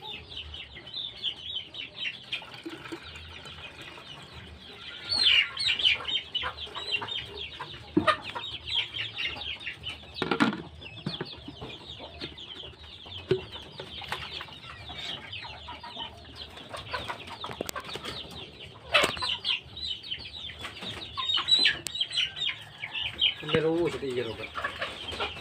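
Joper (Jawa super) chickens, young birds about 0 to 20 days old with colds, cluck and chirp steadily in a clean coop, with frequent overlapping calls at moderate volume and no voices.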